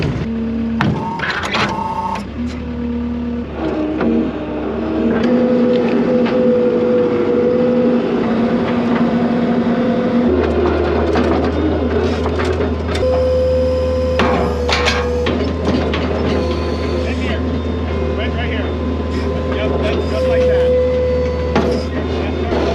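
A tractor fitted with bale forks drones steadily as it travels slowly between farm fields, a loud low engine hum that deepens partway through, with clanks and rattles of equipment on top.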